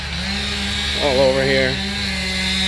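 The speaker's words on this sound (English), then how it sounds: "Sorry about the chainsaw noise." A chainsaw cuts through a large oak tree holding a honeycomb hive in Attleboro, Massachusetts. Its engine drones steadily and loudly throughout while someone speaks briefly over it.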